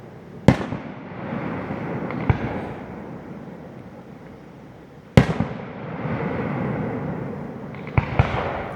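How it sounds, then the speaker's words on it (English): Fireworks at a family gathering in Lonaconing, Maryland burst loudly in two sharp bangs, each followed by a crackling, sizzling tail, with another pair of pops near the end and no talk over them. "Perfect view with the fireworks"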